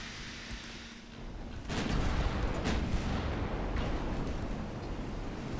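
Naval gunfire in a warship video game sounds as a heavy boom erupting into a sustained rumbling roar of shell hits on a ship's turret, loud and dense with no voices.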